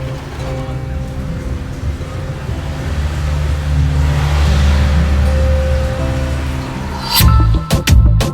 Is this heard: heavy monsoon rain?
yes